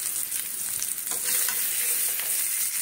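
Potatoes fry in oil in a pan, giving a bright, steady sizzle close by, with soft stirring scrapes running through the short stretch.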